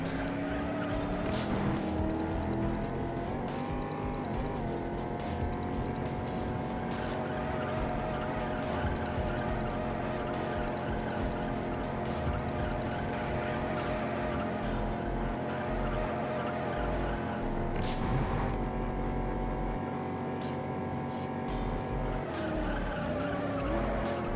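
Race car in Juiced, engine droning and rising through gear shifts with tire squeal and skidding across a long lap, a sustained loud roar with brief dips at the shifts.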